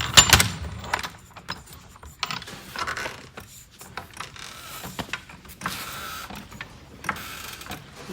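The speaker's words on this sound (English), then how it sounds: "A few strokes of the jack, and I think we're at high enough where both tires are off the ground" A car jack is worked by hand to raise a vehicle with a jack adapter, giving a series of quiet ratcheting clicks and mechanical creaks in uneven strokes, close and fairly soft.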